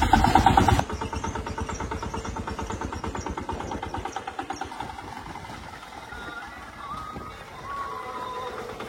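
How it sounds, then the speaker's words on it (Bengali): An engine-powered passenger van drives along a village road toward Pakhiralaya in the Sundarbans, its motor putting out a steady, rhythmic chugging that stays close and fairly loud throughout, with no talking over it. "এরকম ইঞ্জিন চালিত ভ্যান এই প্রথমবার চলছে"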